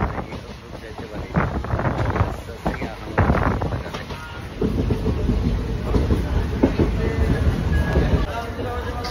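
A train at a crowded railway station: a loud, continuous rumble with heavy wind buffeting on the microphone, and crowd voices mixed in throughout.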